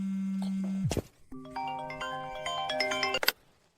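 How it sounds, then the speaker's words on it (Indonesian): A phone ringtone plays a short electronic melody of bright chiming tones after a steady hum cuts off, loud and close, then stops abruptly. "Nina, angkat teleponnya."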